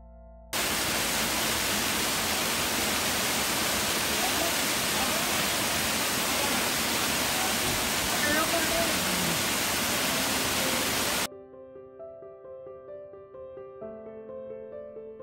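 Steady, loud broadband rush of a monsoon waterfall at Madhe Ghat near Pune, filling the first eleven seconds before cutting to quieter tonal sound.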